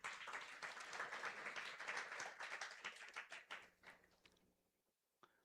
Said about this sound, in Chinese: 我们拍手欢迎